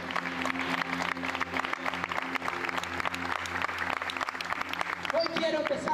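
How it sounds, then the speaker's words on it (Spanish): A church congregation claps during a night prayer gathering in Corrientes, steady crowd applause throughout with a sustained organ-like drone underneath and a brief voice rising near the end. "¡Aplaude!"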